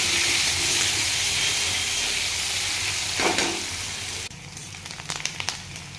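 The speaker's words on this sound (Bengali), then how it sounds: "পেঁয়াজটা দিয়ে দেওয়ার পরে একটু ভালো করে ভেজে নেবো" Onions fry in hot oil with a loud, continuous close-up sizzle and hiss that suddenly drops to a softer crackling with scattered pops for the last couple of seconds. No one speaks.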